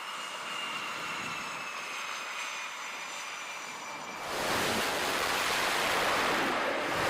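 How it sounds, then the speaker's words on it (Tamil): A fighter jet begins its takeoff from a warship deck, with a steady whining engine roar that suddenly swells into a loud, broad blast of jet noise partway through. "அந்த ஜெட்டு ஒன்று டேக் ஆஃப் ஆக ஆரம்பிச்சு அடுத்தடுத்த கட்டத்துக்கு ரெடியாக ஆரம்பிச்சிடுச்சு."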